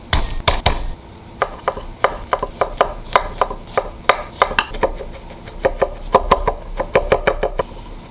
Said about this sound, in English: I'm going to chop up this garlic